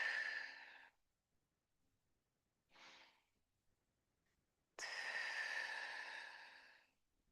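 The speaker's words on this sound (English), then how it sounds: "By really exaggerating the exhale, creates more room for oxygen to come in on that next breath" Deep, exaggerated exhales during morning yoga breathing, three long breathy rushes of air close to the microphone, the first and last sustained for about two seconds each and a shorter one between, with silence in the gaps.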